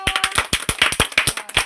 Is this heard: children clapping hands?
yes